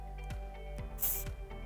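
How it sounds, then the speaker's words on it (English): A short, sharp hiss of silicone spray hits the pivot points of a Steelcase Leap office chair, a single brief burst amid faint clicks and handling noise. "So a little quick spray there."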